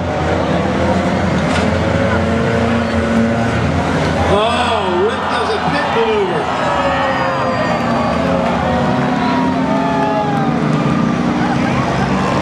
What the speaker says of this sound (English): 77 car out there, Angelo DeFazio